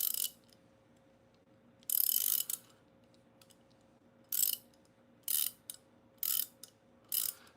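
A cobalt ratcheting wrench is worked close up in short bursts of rapid, crisp clicking. About six quick runs of ratchet ticks are separated by quiet pauses, with no talking.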